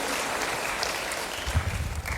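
Church congregation clapping in praise during a sermon, a moderate wash of applause with some heavier, uneven thumps near the end.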